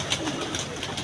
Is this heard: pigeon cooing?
yes